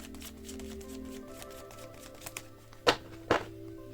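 Soft rustling and light flicking of tarot cards being shuffled, with a couple of sharper slaps near the end, close and quiet over a low hum.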